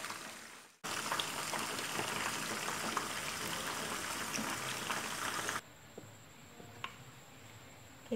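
Fish fries in hot oil for an Indonesian garang asem dish, a dense, steady bubbling sizzle that starts abruptly after a brief quiet moment, then drops to a softer, thinner frying hiss toward the end.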